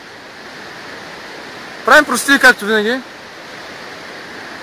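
Steady broadband rush of a river flowing through a forest runs throughout, with a brief burst of someone talking over the water midway.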